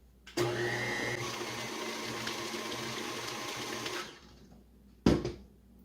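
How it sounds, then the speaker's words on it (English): An electric mixer whirs steadily through cake pop batter, a continuous loud motor drone that cuts off after about four seconds, followed by a brief clatter. "Continue mixing."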